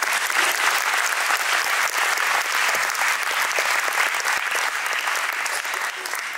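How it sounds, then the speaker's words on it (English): Loud, sustained applause from a large audience honouring dancers and children at a school graduation ceremony, a dense unbroken wash of clapping from start to finish. "a big round of applause for the dancers and the children of the Basal"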